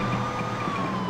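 A siren power-up wails in the Beach Buggy Racing 2 video game, a steady electronic tone over the continuous hum of racing engines, moderately loud with no talking.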